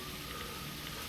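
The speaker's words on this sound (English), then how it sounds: "It's also absolutely torrentially and persistently raining." Heavy, torrential rain pours steadily in the blocky survival game TerraFirmaCraft, a dense, even hiss of falling water holding constant throughout with no breaks or voices.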